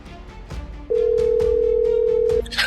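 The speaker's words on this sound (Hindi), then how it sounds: "गंगा ने फौरन फिर से एक फोन लगाया।" A single steady telephone ringback tone holds for about a second and a half. Soft noise sits before and after it.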